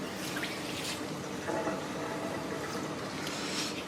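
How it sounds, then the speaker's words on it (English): Water being poured away from a cup while making a silicone rubber mould, a soft continuous trickle and splash with faint drips, quiet and close, with no voices. "pour the water away"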